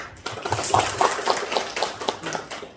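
Teachers at an education network meeting at a Thai village school applaud their superiors, a room full of clapping with a loose, rhythmic pulse, moderately loud and steady throughout.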